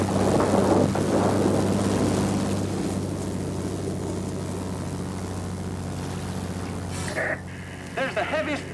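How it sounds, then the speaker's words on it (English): Heavy storm in the flight game World of Warplanes: a loud, continuous rumbling roar of thunder and wind fills the scene, easing slightly before a few sharper crackles near the end. "There's a heavy storm here"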